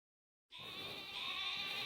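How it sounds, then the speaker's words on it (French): Sheep bleating in the video game Pokémon Sword, a single sustained nasal bleat starting abruptly after a brief silence and holding steady at moderate level, with no talking. "Ouah les moutons."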